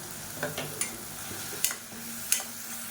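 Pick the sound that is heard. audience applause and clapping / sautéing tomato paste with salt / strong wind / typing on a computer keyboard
sautéing tomato paste with salt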